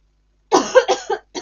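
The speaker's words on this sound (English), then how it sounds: "I'll have a little drink of water for that poorly cough." A woman with a cold lets out a short burst of four or five harsh, chesty coughs after a moment of silence, close and loud.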